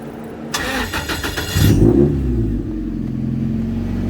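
A Ford Escort Mk1 fitted with a Toyota Beams engine cranks briefly with rapid pulsing, fires up loudly, gives a quick rev and drops to an uneven, noisy idle close by.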